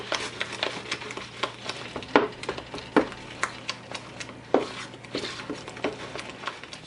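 A spoon works through a thick bean paste for fritters, giving soft, wet patting and scraping strokes in an irregular rhythm, close by and fairly quiet over a low background hum.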